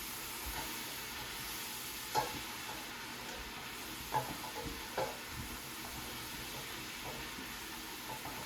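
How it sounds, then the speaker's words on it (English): A spoon stirs vegetable beef soup with Italian seasoning in a pot, browned beef sizzling softly, with a few scraping knocks against the pan over a quiet, steady frying hiss. "And give it another stir."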